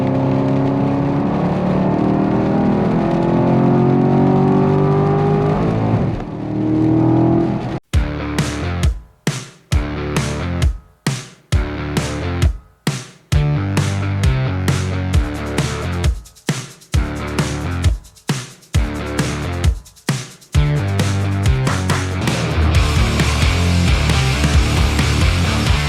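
A Chevrolet Camaro LT1's 6.2-liter V8 roars and revs hard, with repeated sharp throttle blips and six-speed manual gear-change gaps, loud and close, no talking.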